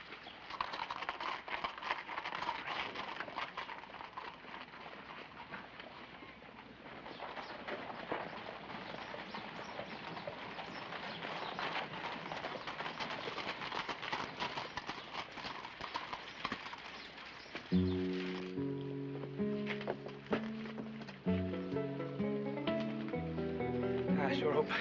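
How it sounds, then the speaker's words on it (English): Horses clip-clop along at a walking pace in a Western film town, steady hoofbeats mixed with background voices and movement, with a musical passage rising near the end. "Billy, take the horses around the livery stable."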